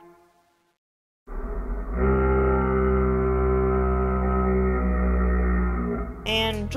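Minecraft goat horn, Yearn variant, in-game: a faint voice tail gives way to a deep, loud, sustained horn note that swells after a moment and holds for about five seconds before cutting off, with a brief noisy burst at the end.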